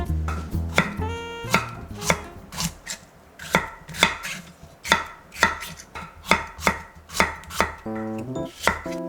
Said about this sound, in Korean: 반으로 잘라줄게요